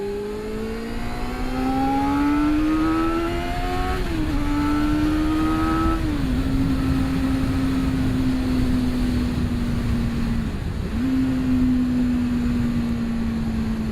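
A 1988 Yamaha FZR400 EXUP motorcycle engine revs high and climbs steadily in pitch, then holds a loud, strained whine with a couple of brief dips, close and continuous.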